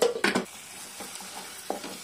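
Tomato puree frying in oil in a pan while being stirred, with a few louder scraping strokes near the start and another near the end over a soft continuous sizzle.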